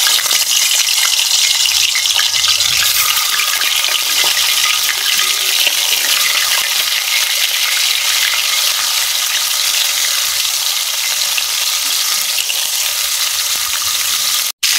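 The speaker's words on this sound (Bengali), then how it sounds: "এখন তেল দিয়ে দিতেছি মাংসটা ভাজার জন্য" Chicken pieces fry in hot oil in a wok, giving a loud, steady sizzle and crackle throughout with no talking, ending in a brief clatter.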